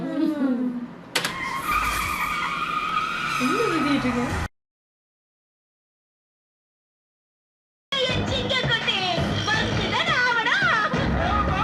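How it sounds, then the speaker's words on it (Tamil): The hero's car spins and skids in a film scene, giving a drawn-out tyre screech and engine noise mixed with voices and crowd sound. The sound cuts to silence midway, then resumes. "ஆனா இங்க ஹீரோ கார் சுத்திட்டு இருக்கு, அது சுத்திக்கிட்டே இருக்கு."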